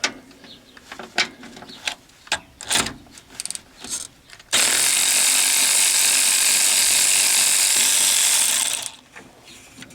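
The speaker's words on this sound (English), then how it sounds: "I'll use this wonderful little colored Harbor Freight socket, and they'll come right out." A Harbor Freight socket ratchet backs out the shock bolts on a 1992 Chevy Astro van. Scattered clicks and clanks give way to a long, loud continuous whirring burst lasting about four seconds before it stops.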